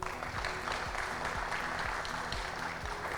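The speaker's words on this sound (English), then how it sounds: "May I please request a round of applause for the entire panel." At a Smart Cities India Expo panel session, the audience claps in a steady, even wash of applause, with a low repeating thump and hum running underneath.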